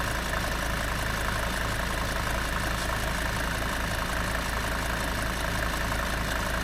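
A Mercedes 410D van's diesel engine idles steadily after a coolant system flush, a continuous low rumble with a constant drone and no change in revs, close by and with no talk.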